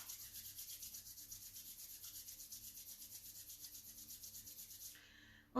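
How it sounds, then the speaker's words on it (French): Palms rubbing briskly together during a qi gong Do-In self-massage, a steady rhythmic swishing friction close by that runs for about five seconds and then stops abruptly. "Ok, on frotte."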